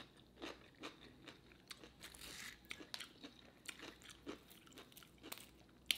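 Close, quiet crunching and chewing of crispy homemade lumpia, repeated bites and crackly munching in an irregular rhythm with no talk.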